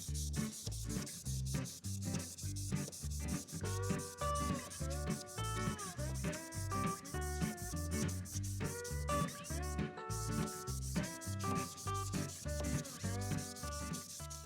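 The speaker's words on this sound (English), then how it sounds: "Here we are at about 5 or 6 minutes of sanding with that 600 grit" A car's plastic headlight lens being wet-sanded by hand with 600 grit sandpaper during restoration, steady rhythmic up-and-down rubbing strokes repeating close to the microphone with no talking.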